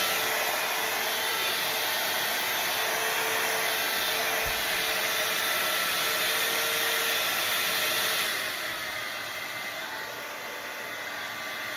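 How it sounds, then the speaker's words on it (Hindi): Hot air brush blow dryer with bristles running with a steady, loud whooshing hum, then easing to a slightly quieter setting toward the end. "ब्लो ड्रायर है, और ब्लो ड्रायर में ब्रिस्टल्स हैं।"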